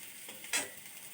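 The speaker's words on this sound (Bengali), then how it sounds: "আলুটা ভেজে নেব এইভাবে," Potato pieces frying in oil in a pan, a soft sizzle with one brief louder stirring scrape in the middle, alone without voices.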